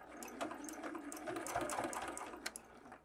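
A sewing machine stitches the small fabric ears onto a matchbox bunny, a steady close whirring run with brief changes in pace as it pivots around a curve.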